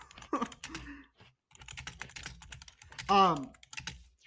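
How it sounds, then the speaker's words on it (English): Rapid clicking of computer keyboard keys goes on in quick bursts, close and soft, while voices and a brief laugh come through on and off. "I'm typing shit now."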